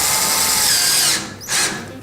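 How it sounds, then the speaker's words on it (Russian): A power screwdriver drives self-tapping screws into a drywall sheet on a fireplace portal frame, whining steadily and loudly, briefly dropping off, then spinning up again in a short second burst. "наживляем этот лист гипсокартона. Шаг саморезов примерно 25 сантиметров."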